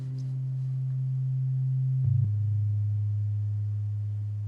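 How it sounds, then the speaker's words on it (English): A pure, steady low sine tone hums continuously, gliding briefly to a slightly lower pitch partway through and holding there. "the default, if you don't load up anything, you just get this sine wave"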